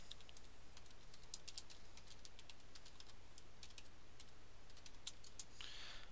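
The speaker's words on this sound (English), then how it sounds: "if you type in your password right" Password typed on a computer keyboard in Kali Linux, a quick irregular run of soft key clicks over a low steady hum, fairly faint and with no voices.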